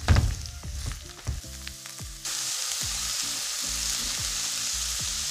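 Onion and carrot fry in a pot for a Jamaican-style dish. Light sizzling sits under a steady musical backing at first, then swells into a louder, constant hiss about halfway through.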